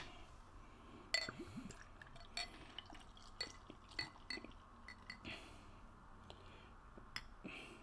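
Lagunitas Tuberfest beer settling in a glass, with soft trickling, fizzing and several small glassy clinks and drips, quiet and close.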